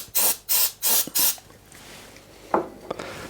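Cleaner is sprayed onto a Bose aviation headset part in four quick close hisses, followed by faint handling taps and clicks.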